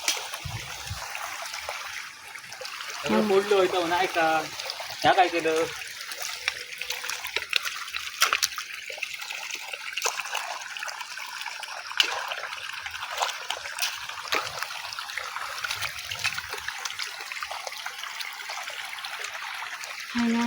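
Water forced through a pipe under pressure, gushing and trickling steadily at close range, with a brief splashy stretch early on while someone talks over it.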